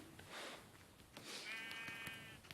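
A sheep bleats in Minecraft Pocket Edition survival mode, a faint wavering bleat rising over quiet in-game ambience with soft background rustling.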